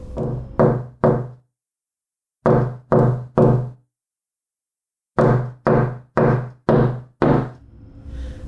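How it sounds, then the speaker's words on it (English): Knocking on a house's front door comes in three groups of sharp raps, three, three and then five, close and loud with silent pauses between. "So confused, Daniel went to the house and knocked on the front door."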